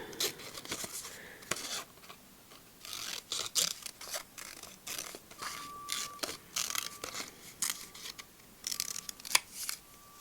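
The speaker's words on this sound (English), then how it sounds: "So I might actually fussy cut this one as well, like so." Scissors fussy cut a printed paper picture for an art journal collage page, making a series of faint, close snips and crisp paper rustles in an irregular rhythm, with no talking.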